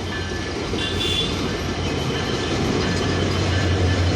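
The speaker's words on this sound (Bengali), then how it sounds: "খুলনা থেকে ছেড়ে আসা চিলাহাটিগামী আন্তনগর 727 রূপের রানী রূপসা এক্সপ্রেস ট্রেনটি বর্তমানে সৈয়দপুর ইন করলো 1 নম্বর প্ল্যাটফর্মে" Intercity 727 Rupsha Express, running from Khulna to Chilahati behind locomotive 6619 hauled long hood forward, pulling into platform 1 at Saidpur station with a loud, steady rolling rumble that fills the whole clip; no voices are heard.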